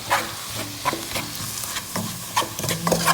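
Ginger and cinnamon cooking in a pan for a Moroccan soup, with close sizzling and repeated clattering stirs and utensil knocks over a low frying hiss.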